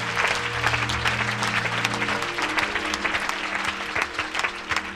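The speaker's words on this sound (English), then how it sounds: "Let's clap for Jesus as we take our seats." A church congregation claps for Jesus while taking their seats, a busy, sustained wash of hand claps with music or organ tones sustained underneath.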